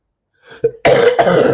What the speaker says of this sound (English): Just getting over a bit of a cough, actually.